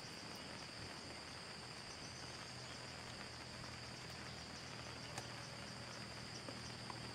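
Rain falls at night in a steady, soft hiss with faint pattering drops and a thin high insect-like tone, quiet and unbroken, with no voices.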